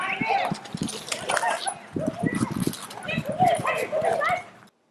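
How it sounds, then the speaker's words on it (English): Dogs kept inside a medical school bark and yip in short bursts across the clip, mixed with nearby talking voices. "I don't think the dogs add anything here. They make a lot of noise."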